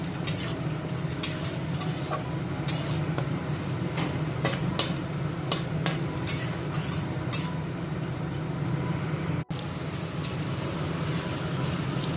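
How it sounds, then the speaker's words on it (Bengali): Blended spice paste hits whole garam masala in a hot pan, raising a steady, close sizzle with scattered small clicks and scrapes that continue for several seconds. "গোটা গরম মশলার মধ্যে মিক্সিতে পেস্ট করা বাটনাগুলো আমি ঢেলে দিলাম"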